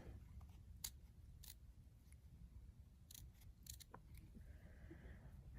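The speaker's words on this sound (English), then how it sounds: "you just want to take and cut around the outer perimeter here of your half circle" Scissors snip around the outer edge of a half-circle piece for book-themed earrings, giving several faint, sharp cuts spaced irregularly over a quiet background.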